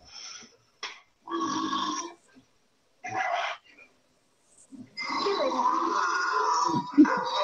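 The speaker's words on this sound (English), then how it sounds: "Like a burp." A long, drawn-out burp rumbles loudly after a few short, broken vocal bursts separated by silence.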